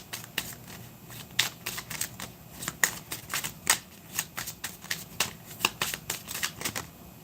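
Tarot or oracle cards being shuffled by hand for a reading, with a rapid irregular run of crisp riffling snaps and flicks, close and steady throughout, and no talking.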